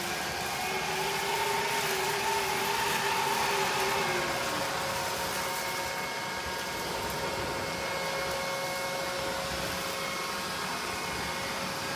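A Neato Botvac robot vacuum runs on a hard floor, giving a steady, fairly loud motor hum and whir with a slowly shifting pitch throughout.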